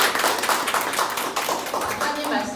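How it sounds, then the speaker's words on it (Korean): A studio audience claps to welcome three guests on a Korean morning talk event in Gamgol, the dense patter of many hands filling the room steadily and fairly loudly. "세 분께 저희 환영의 박수."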